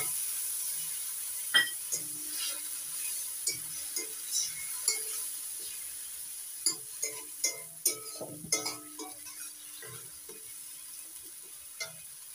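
Onion and tomato paste fries in a pan for a bottle gourd paneer curry, giving a soft, steady sizzle under scattered light clinks and scrapes of stirring, with no talk.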